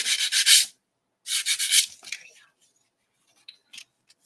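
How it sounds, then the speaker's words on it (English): A paper cutter trimming cardstock with a worn blade: two bursts of rasping slicing strokes, close and fairly loud, followed by a few faint short scrapes and clicks, with no talk. "My cutter, it needs a new blade."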